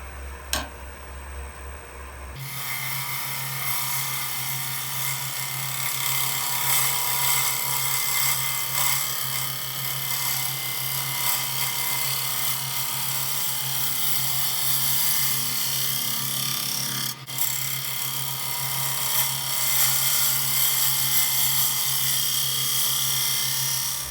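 A wood lathe spins a spalted apple bowl with a steady close hum, while a tool makes a light pass over the wood with a continuous scraping hiss and one brief knock partway through.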